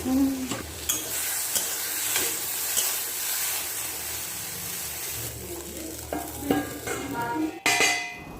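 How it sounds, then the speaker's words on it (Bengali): Okra sizzles and hisses steadily as it fries in a pan, with scraping stirs and light utensil knocks throughout and a louder clatter near the end. "এইভাবে 3 থেকে 4 মিনিট ধরে ঢ্যাঁড়সগুলোকে আমি ভেজে নিচ্ছি"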